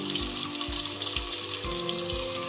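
Onions sauté in oil for a vegetable biryani, giving a steady close sizzle with a regular low thumping pulse under it, about five beats in a short stretch, and no talking.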